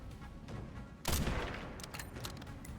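A sharp burst of gunfire in Resident Evil Requiem, one loud close shot followed by a short rattle of further shots and echoing tail.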